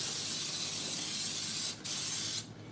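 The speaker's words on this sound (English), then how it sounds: "Give them a last spray." Cooking spray hisses from a can onto two loaf pans for a banana cake, a close, steady spray broken by two short pauses as the nozzle is released between passes.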